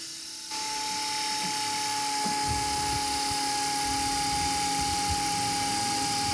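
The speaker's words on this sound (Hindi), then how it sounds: "ड्रोन" A small consumer drone, unboxed from a container lot, starts up and hovers with a steady, high-pitched propeller whine that holds at an even loudness throughout, after a brief quiet start.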